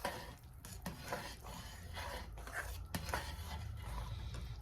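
Oats get stirred into a plantain porridge in a pot, soft scraping and sloshing strokes with a few sharper clicks of the spoon against the pan, quiet and close, with no one speaking.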